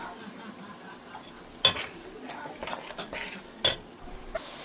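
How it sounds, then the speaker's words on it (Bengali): Masala with turmeric and green chilies being stirred in a pan for lau saag with mirigal fish curry: sparse, close scrapes and clinks of a spoon against metal, a few sharp knocks, and faint sizzle underneath. "মশলা আমি সুন্দর করে কষিয়ে নেব"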